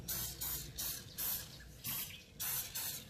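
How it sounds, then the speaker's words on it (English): Short hissing bursts of a spray bottle misting oil onto chicken strips for an air fryer, about six in a row at a steady pace, close by. "Again spray a little oil if you see some dry patches on the chicken."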